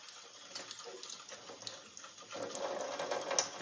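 Tap water runs gently into a sink to flush out sausage casing while making venison bratwurst: a soft, continuous trickle that grows slightly fuller partway through, with no talking.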